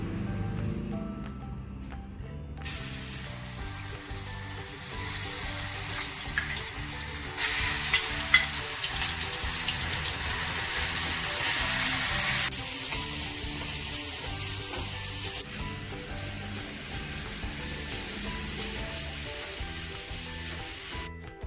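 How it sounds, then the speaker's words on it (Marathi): Steady sizzling of chopped garlic frying in oil in a hot pan, with soft scraping and stirring noises throughout and no voices. "बारीक केलेला लसूण कढईत टाकून परतून घेणे"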